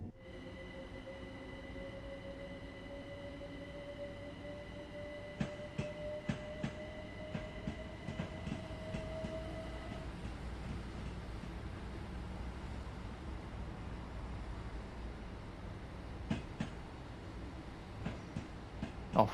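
A Class 387 Gatwick Express electric train in Train Sim World 5 hums along with a rising motor whine, then rolls on with soft rhythmic rail clicks and occasional thumps, fairly quiet throughout.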